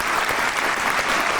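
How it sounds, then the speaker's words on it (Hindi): Applause from a studio audience at a morning show's Independence Day special, a dense, steady burst of many hands clapping, brief and fairly loud, with no voices on top. "तालियां जी।"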